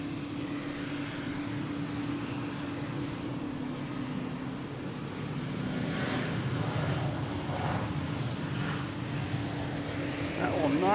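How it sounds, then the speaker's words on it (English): An American Airlines Boeing 737-800 jet bound for Chicago rumbles steadily at Boston Logan, its engine roar building near the end, with people talking over it. "American Airlines heading to Chicago, 737-800, flight 872."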